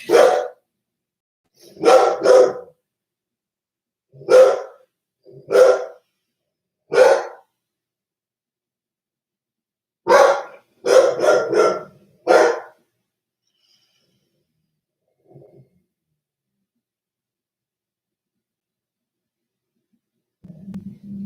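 A dog barks in single and double bursts, loud and close, spaced irregularly across the stretch with long silent gaps and a faint low whine near the end.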